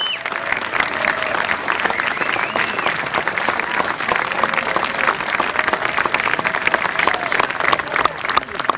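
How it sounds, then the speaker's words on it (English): A crowd applauds and cheers loudly and steadily throughout, honoring music engineer Bruce Swedien at a tribute, with dense clapping and occasional shouts and whistles rising above it. "Face the crowd and say thank you. They're cheering for you."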